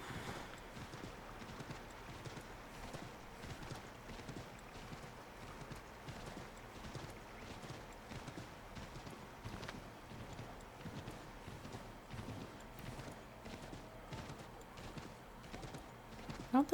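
A horse in Assassin's Creed III clip-clops along in a steady, even hoofbeat rhythm, soft and continuous for the whole stretch with no talk over it.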